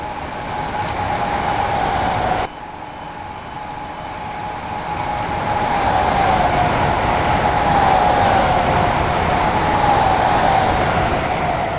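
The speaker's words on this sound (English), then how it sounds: "that is the Armstrong Powerhouse Class 321. That it sounds really good, and not the Dovetail Games version." A Class 321 electric multiple unit in Train Simulator 2020 hums and whines along the rails. The motor tone rises and shifts in pitch, a brief dip cuts in near the start, and the drone builds again and runs steadily.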